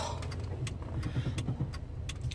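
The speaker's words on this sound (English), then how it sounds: "My car so loud." A loud car with a loosened tailpipe gives off a quiet, low exhaust rumble, with scattered clicks and rattles on top and no talking.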